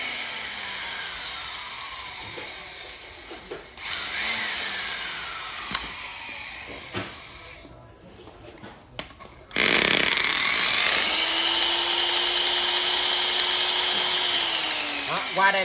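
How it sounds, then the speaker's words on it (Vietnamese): Makita hammer drill with a 13 mm chuck, loud whining motor runs that spin up and wind down in several bursts, with a brief pause between, nearby and without speech over it. "Rồi con này là con khôn búa. Hàng Makita, đầu kẹp 13 ly."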